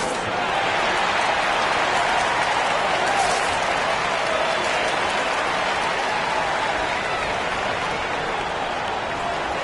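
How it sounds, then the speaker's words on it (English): An arena crowd at a professional NBL basketball game cheers and applauds in a dense, steady roar that holds for about ten seconds without a break. "Get loud and let them hear it. Get on your feet right now, crowd."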